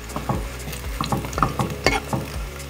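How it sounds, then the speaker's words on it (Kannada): Garlic sizzles and crackles in a pan with curry leaves and cumin, frying until crunchy and golden, while a spoon stirs and scrapes in repeated close strokes; no one speaks. "ಇದು ಸ್ವಲ್ಪ ಕ್ರಂಚಿಯಾಗಿ ಫ್ರೈ ಆಗಲಿ, ಗೋಲ್ಡನ್ ಕಲರ್ ಬಂದಮೇಲೆ ತೆಗೆದು ಬಿಡೋಣ"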